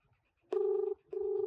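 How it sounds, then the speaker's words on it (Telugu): An outgoing phone call rings unanswered, two clear steady ringback tone pulses separated by a short gap, heard alone through the handset at moderate volume. "సో రింగ్ అవుతుంది కానీ లేపడం లేదు."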